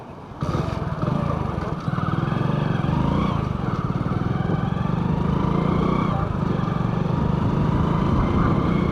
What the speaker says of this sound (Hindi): अब मैं यहाँ पे बिना रेव मैचिंग करे गियर उतारता हूँ।